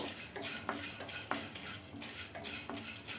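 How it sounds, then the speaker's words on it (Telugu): Urad dal is fried in a pan with a soft sizzle underneath, while a spoon scrapes and stirs it in regular strokes roughly every half second, quiet and close. "ఇది కూడా కొంచెం కలర్ చేంజ్ అయ్యే వరకు అయితే ఫ్రై చేసుకోవాలండి"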